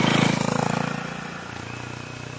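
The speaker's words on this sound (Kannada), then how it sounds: "ಹೋಂಡಾ ಸಿ ಬಿ 350ನ ನಾವು ಓಡಿಸಿದಾಗ ನಮಗೆ ಫಸ್ಟ್ ಇಷ್ಟ ಆಗಿದ್ದು ಈ ಮೋಟರ್ಸೈಕಲ್ನ ಎಕ್ಸಾಸ್ಟ್ ನೋಟ್." A Honda H'ness CB350 motorcycle exhaust note: a steady, low, thumping single-cylinder idle with an even pulsing rhythm, close and fairly loud, easing slightly after a brief rise at the start, with no talk.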